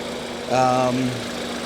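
A BMW TwinPower Turbo engine idling in a damaged car at a salvage auction yard, a steady low hum that briefly swells louder for about half a second before settling back.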